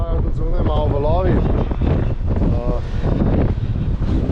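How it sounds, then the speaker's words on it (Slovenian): Strong wind of 20 to 30 knots buffets a sailboat at anchor off Saint Barthélemy, a constant heavy roar and rumble of gusts on the microphone with a voice talking over it. "Danes piha med 20 in 30 vozli"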